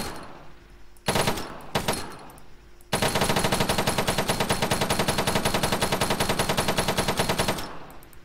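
Automatic rifle fire in the Arma 3 shooter game: two short bursts, then a long, steady, rapid stream of shots lasting several seconds, loud and close, with no talking.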